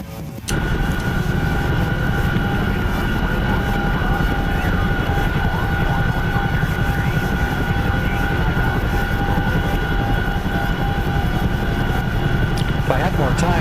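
A Chinook helicopter flies in a video game with a constant, loud rotor and engine drone that holds steady from start to finish, with no break in the noise.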